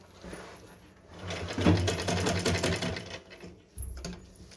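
Sewing machine running in a steady burst as it stitches over a drawstring casing on a small Laddu Gopal Janmashtami dress, building up, slowing briefly, then a short final run.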